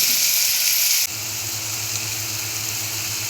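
Onions and a garlic clove sizzle steadily in a hot pan while being sautéed, a loud continuous frying hiss with a brief louder burst at the start, no voices.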